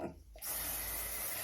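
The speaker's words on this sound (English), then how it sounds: "I am going to use some of this, what's it actually called? Queen for a Day Thickening Spray" Bedhead Queen for a Day thickening spray hisses from its can in one steady, loud burst lasting about a second, close up after a short quiet start.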